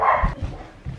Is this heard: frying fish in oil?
no